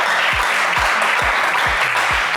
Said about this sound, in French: on peut applaudir Loïc, s'il vous plaît.